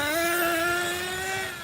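A Team Losi 8IGHT 1/8-scale RC buggy with a nitro engine drives at speed: a loud, high-pitched engine whine holds steady, rising slightly, then fades a little as the buggy pulls away, no talk.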